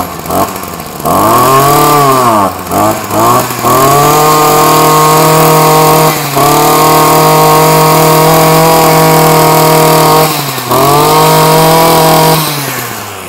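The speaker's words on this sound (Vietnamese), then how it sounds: "Các bác có thể nghe được cái tình trạng máy nổ gan ti rất là êm." A Japanese K2 petrol brush cutter engine roars close and loud after a pull start, revving up and dipping several times before holding a steady high buzzing idle.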